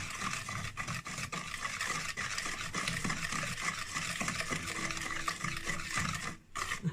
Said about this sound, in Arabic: ونقعد نرب فيهم بالسكر كده اهو، لغايه ما السكر تحسيه داب معاه